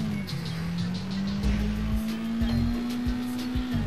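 Subaru car engine roaring in the video game Sleeping Dogs, a sustained loud drone holding nearly steady pitch, with thuds and bumps underneath, close and continuous.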